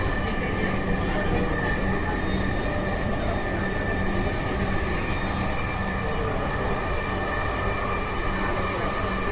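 A metro train runs steadily and loudly from inside, with a continuous rumbling roar, faint whining tones, and a voice speaking over it.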